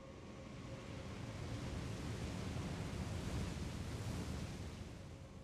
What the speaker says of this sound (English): Why does it sound like there's water?